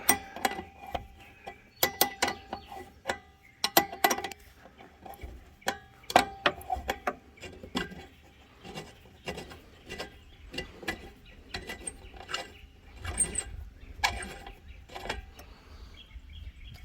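Ratchet removing a nut from a wiper motor on a Freightliner Classic XL truck, an irregular series of sharp clicks and metallic taps, close but fairly faint, with no talking.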